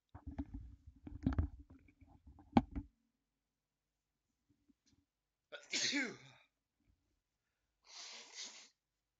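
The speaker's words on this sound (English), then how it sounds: "I have to blow my nose." Two short, forceful nasal blasts separated by a pause, following some earlier rustling and handling noise up close.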